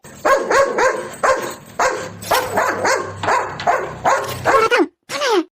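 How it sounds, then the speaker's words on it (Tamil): A dog barks loudly and repeatedly nearby in rapid, uneven bursts over several seconds, with a short pause before a final sharp bark. "எப்ப பாரு சல்ல சல்லன்னு குறைச்சுக்கிட்டே நிக்குதே"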